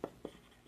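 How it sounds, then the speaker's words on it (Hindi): A pen scratches on paper during a maths lesson, giving two quick soft strokes close by and then a faint trailing mark, quiet and with no voice over it. "तो लिख लेते हैं माना"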